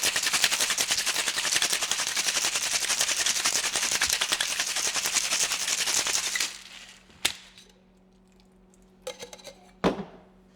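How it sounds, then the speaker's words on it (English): Small ice cubes in a cocktail shaker rattle in a fast, steady, loud shake for about six seconds, followed by a few separate metallic clinks and knocks as the shaker is handled. "And just give it a nice hard shake for about 8 to 10 seconds."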